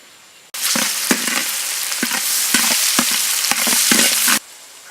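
Carrots fry loudly in a pan, a steady hiss broken by repeated scraping strokes of a stirring spoon, close and continuous until the sizzle cuts off abruptly.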